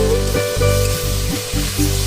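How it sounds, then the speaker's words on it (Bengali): Boiled, ground spinach and boiled potato fry in spiced oil, giving a loud, close sizzle broken by brief rhythmic pauses as the mixture is stirred. "একটু নেড়ে চেড়ে তাতে দিয়ে দিলাম আগে থেকে সেদ্ধ করে রাখা আলু।"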